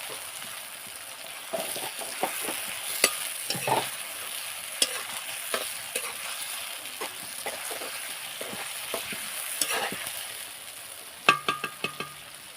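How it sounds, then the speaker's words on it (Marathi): Green chillies and tomatoes fry in oil with a soft continuous sizzle, punctuated by repeated scraping stirs and spoon knocks against the pan, clustering into a quick series of clacks toward the end. "इथे मिरची टमाटर टाकून घेतले मी तेलामध्ये कोलकून घेते त्याला"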